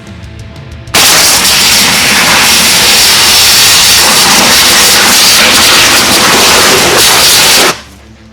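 A pressure washer blasts a pumpkin in a loud, continuous roaring spray that starts abruptly after a quiet second and runs steadily for almost seven seconds before cutting off.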